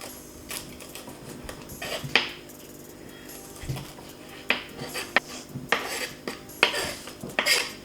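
Knife and fingers scrape seeds out of halved green chilies, with clinks and light taps against a plate or board at close range, set against steady kitchen background noise and no speech.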